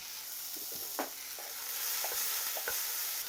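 Red onions seasoned with a couple of pinches of salt soften in a pan, with a quiet background sizzle broken by scattered scrapes and taps of stirring.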